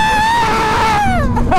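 A human voice imitates a pterodactyl scream with one loud, close, drawn-out shriek that wavers and fades at the end.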